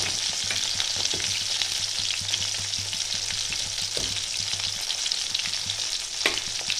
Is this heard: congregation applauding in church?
no